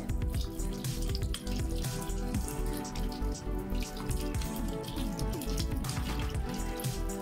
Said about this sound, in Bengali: একটু ধুয়ে নিই, ভীষণ কাদা লাগা